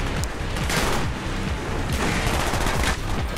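Call of Duty Black Ops gunfire fills the mix: loud, dense bursts of rapid automatic shots and overlapping rounds that pulse in waves, up close with no pause.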